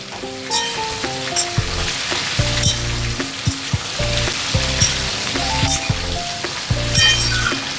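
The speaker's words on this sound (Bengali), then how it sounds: "এবার সবজিগুলো একটু ভেজে নিই।" Radish and potato pieces fry in hot oil in a pan for a Bengali pumpkin-greens dish. A loud, continuous sizzle is broken by stirring clinks and scrapes, with a tuneful background melody running underneath.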